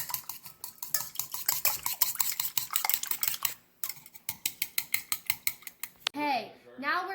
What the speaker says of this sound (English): Now I'm going to whisk together my eggs.